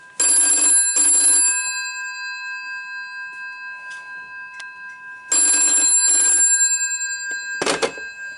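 A 1968 GPO 746L telephone bell rings in two bursts of double rings, loud and metallic with a lingering decay after each, heard alone in a quiet room, followed by a short clatter.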